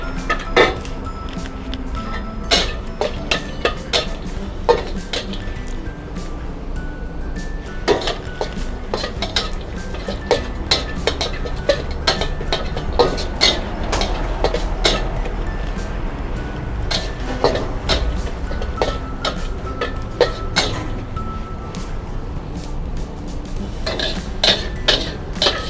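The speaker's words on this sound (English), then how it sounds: "Now, I'm going to roast the cashew nuts." Cashew nuts roasting in a pan for Tamil ghee balls (neii urundai): steady scraping and clinking of a metal spoon against the pan, with frequent sharp taps over a continuous low sizzle, close and fairly loud throughout.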